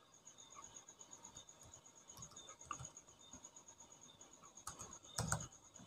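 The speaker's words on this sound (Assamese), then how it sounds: "সেই মোবাইল নম্বৰ আমি ইয়াত টাইপ কৰি লওঁ" Someone types a mobile number on a keyboard: a faint, irregular run of soft key clicks, with crickets chirping steadily in the background and no talk.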